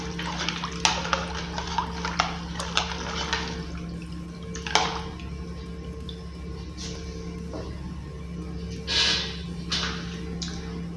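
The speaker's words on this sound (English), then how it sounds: "So the next thing I'm going to do is to mix it very well" Soaked groundnuts being stirred and mixed with their water in a bowl, giving soft liquid sloshes and occasional sharper clinks against the bowl over a steady background hum, close and fairly quiet, with no talking.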